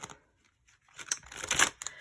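Tarot cards being shuffled, with a brief flick at the start and then a denser riffling burst of papery slaps up close.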